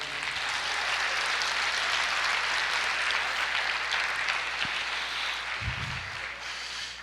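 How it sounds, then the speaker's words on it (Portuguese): A church congregation applauding during a sermon, a broad continuous wash of clapping held at an even level throughout, fairly distant and diffuse, with a low steady hum beneath it. "Você pode aplaudir o Senhor?"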